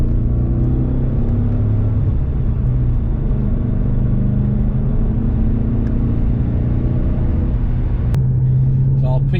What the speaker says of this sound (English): The important thing is the car is running, and it's running much better than when I last drove it